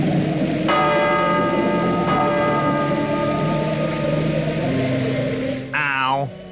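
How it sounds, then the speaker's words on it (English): Two loud ringing strikes of a deep bell at a dark, spooky castle door in a cartoon, each tone hanging and decaying, followed by a brief rising sound at the end. "So they rang the bell."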